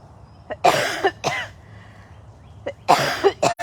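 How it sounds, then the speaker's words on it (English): A woman's coughing fit at a big cat rescue, several harsh coughs in two close bursts separated by a short pause, near and loud with no talk. "I have officially talked to the point where I can't stop coughing"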